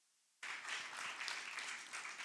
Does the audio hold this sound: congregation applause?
yes